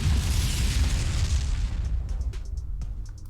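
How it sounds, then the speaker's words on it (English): A bomb explosion sound effect: a loud, deep booming blast with a low rumble that fills the opening moments and slowly decays, trailing into a fading roar. "let me give you a bomb explosion on that."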